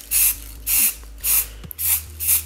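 Brown Rust-Oleum rusty metal primer sprays from an aerosol can onto a Cummins-powered rat rod in five short, evenly spaced hissing bursts, loud and close, with brief quiet gaps between them.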